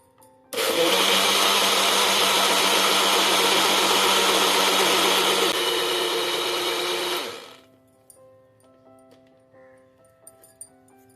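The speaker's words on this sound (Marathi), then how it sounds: "दोन मिनिटे आपण हे फिरवून घेतलेलं आहे आणि आपलं मिश्रण मस्त एकजीव झालेलं आहे" Kitchen blender whirring at full speed as thandai paste blends with milk, a loud steady motor roar lasting about seven seconds before spinning down and stopping, followed by faint kitchen sounds.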